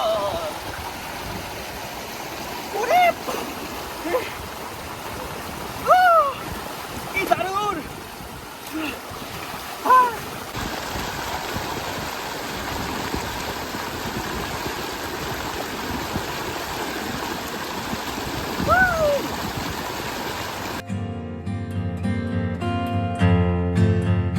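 A cold mountain stream at Kolbong near Kalimpong rushes steadily over rocks, a close, continuous wash of water under bursts of chatter and exclaiming voices, with music taking over near the end.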